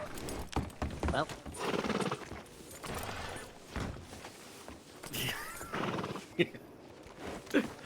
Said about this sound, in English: What is going on with that horse? I can't hear myself think.